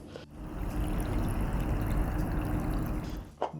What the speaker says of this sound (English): Now we're gonna turn on the cold water.